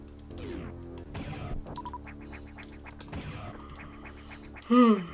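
A person gives one loud, drawn-out yawn near the end, with its pitch sliding down, over quieter electronic blips and effects from a Super Metroid X Fusion game session.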